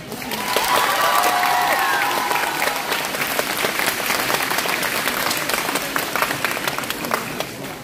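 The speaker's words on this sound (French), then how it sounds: "Un tonnerre d'applaudissements, s'il vous plaît" Loud, sustained audience applause at the Coupe de France de Cosplay in Rouen, a thick crowd of clapping hands with some cheering, carrying evenly from start to finish while a brief whistled or squeaky tone rises early on.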